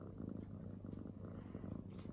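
Cristalline, a mother cat nursing her kittens, purrs continuously at close range, a quiet, even low rumble pulsing in a steady rhythm with no voices over it.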